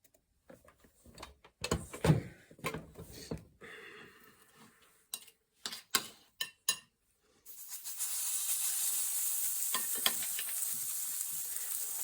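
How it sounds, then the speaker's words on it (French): Keto waffle batter cooking in a waffle iron, a steady close hiss and sizzle filling the second half after earlier scattered knocks and clatter of utensils, with no talking. "passons tout de suite à la cuisson des dernières gaufres"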